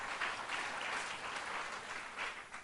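Congregation applauding during a church service, a faint but continuous patter of many hands clapping together, with no voices over it.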